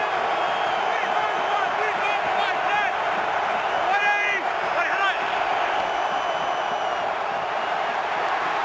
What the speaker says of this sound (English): this crowd is louder than it's been all day